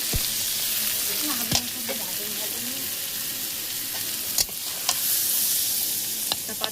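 Chicken sizzles steadily in a hot pan while a utensil stirs it, scraping sharply against the metal several times across the steady frying.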